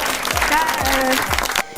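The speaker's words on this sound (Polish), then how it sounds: "proszę o brawa" Audience applause at a live interview event, a short burst of dense clapping lasting under two seconds and ending abruptly, with a voice speaking over it.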